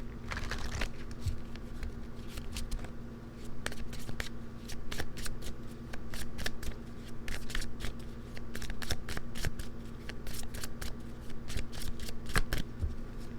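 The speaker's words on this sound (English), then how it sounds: "let's cut the deck and see what we have" A deck of tarot cards is shuffled and cut steadily for a long stretch, with dense crisp riffling and flicking close up, loud and continuous with brief pauses and no voices.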